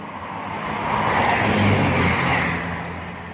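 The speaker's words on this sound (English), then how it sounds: "first diverted Pendolino of the session incoming now" An Avanti West Coast Class 390 Pendolino train approaches on a diverted route at Stechford on the West Coast Main Line, a broad rushing roar building steadily and peaking before easing slightly.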